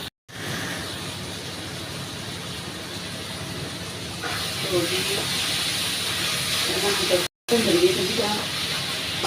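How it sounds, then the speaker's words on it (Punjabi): Onion, tomato and green chilli with salt fry as a tempering in a pan, a continuous loud hissing sizzle that swells midway, with brief stirring sounds and a short break near the end. "ਜਿਹੜਾ ਆਪਾਂ ਤੜਕਾ ਲਾ ਰਹੇ ਆ ਇਹਦੇ ਵਿੱਚ ਪਿਆਜ਼ ਟਮਾਟਰ ਔਰ ਹਰੀ ਮਿਰਚ ਤਿੰਨੋਂ ਚੀਜ਼ਾਂ ਪਾਈਆਂ ਹੋਈਆਂ ਨੇ"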